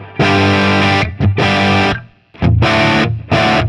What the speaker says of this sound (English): I'm playing this shape for a G.